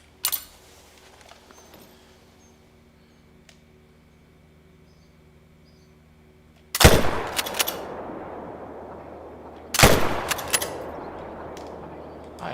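Two rifle shots ring out in The Hunter: Call of the Wild on the Scotland map, each a loud sharp crack followed by a rolling echo. The first fires after a long quiet stretch, and the second comes about three seconds later.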